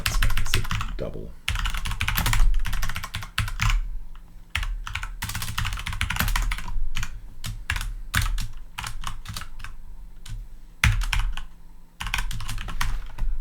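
Fingers type C code on a computer keyboard in quick, uneven bursts of loud, close clacking keystrokes, separated by short pauses.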